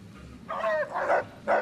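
A dog in the Fallout: New Vegas video game gives a few short yips and barks, an upward whimpering bark followed by two sharper ones, fairly close and clear.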